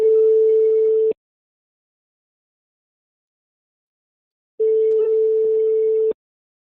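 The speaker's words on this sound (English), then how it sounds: "See that thing ring." A telephone ringback tone plays over a call line, two steady one-second pulses separated by about three and a half seconds of silence, clear and close.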